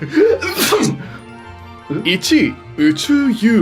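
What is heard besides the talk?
sneeze in comedy skit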